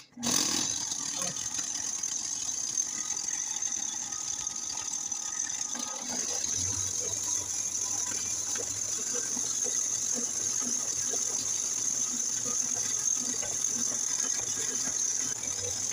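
A dough mixer machine kneads paratha bread dough, running as a steady, continuous mechanical whir with a faint rattle for the whole stretch and no voices over it.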